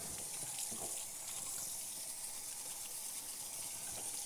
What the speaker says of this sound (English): Turn our water on, and we're just going to spray it all down really good.